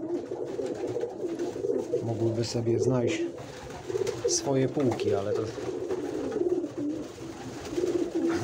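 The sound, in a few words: pigeons cooing in a loft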